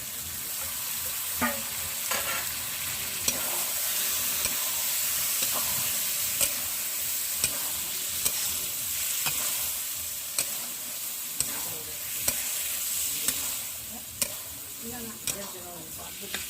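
Boiled lentils tipped into a hot pan for dhaba-style chicken egg tadka fry with a steady, loud sizzle, while a spatula scrapes and stirs in repeated sharp clicks throughout.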